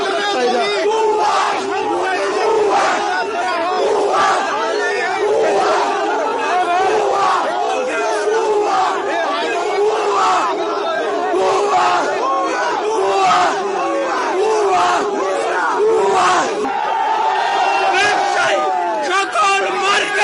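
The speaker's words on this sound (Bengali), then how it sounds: "দেখে ভুয়া ভুয়া স্লোগান দিচ্ছে" A large crowd of traders at Karwan Bazar market chants "bhuya bhuya" slogans in rhythmic, loud repeated shouts, many voices together in a sustained, roaring chant.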